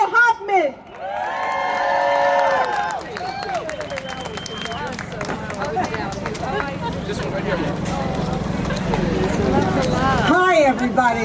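Crowd at an International Women's Day abortion-rights rally cheers, whoops and claps loudly for a speaker being introduced, a sustained roar of applause lasting several seconds before a voice starts speaking.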